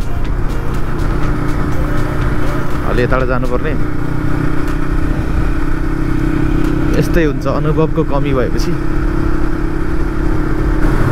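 A motorcycle engine runs steadily while riding through local roads in Nonsan, Korea, a constant mid-pitched drone with brief revving swells, and a rider talks over it throughout.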